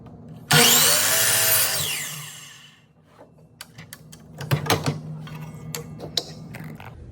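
A power saw set to 15 degrees cuts a wooden board in one loud, whining pass of about a second and a half that winds down, followed by scattered clunks and knocks as the wood is handled.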